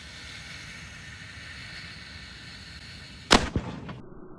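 A black powder cannon aboard the tall ship Lynx fires with one sharp boom over a steady outdoor rumble. The report is fairly modest rather than huge, and a short crackling echo trails off after it.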